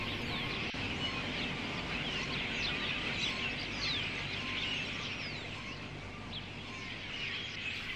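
Large flocks of migratory birds chatter together, a dense continuous wash of many small chirps and calls at a moderate distance, with no voices over it.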